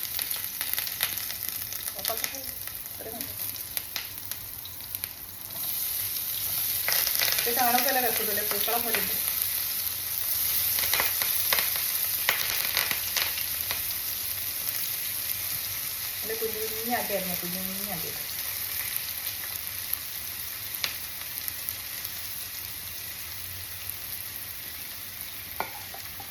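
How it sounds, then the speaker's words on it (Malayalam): Eggs fry in a pan with a continuous close sizzle and occasional stirring scrapes, while a voice talks now and then over the cooking. "വറക്കാം മുട്ട"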